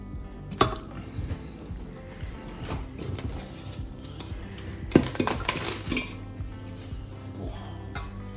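A spoon stirs kahawai kokoda with coconut cream in a bowl, giving wet squishing and repeated clinks and scrapes against the bowl, close and continuous with a few louder knocks.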